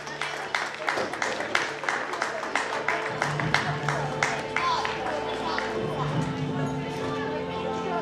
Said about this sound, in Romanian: Puteți să o aplaudați, să știți.